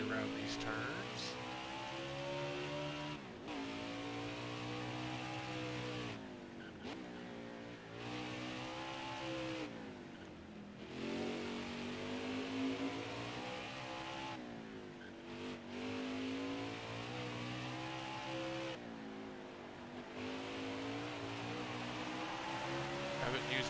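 Race car engine in a PS4 racing game, revving repeatedly as it accelerates and shifts through gears, with rising and falling pitch sweeps and brief gaps between shifts, loud and continuous.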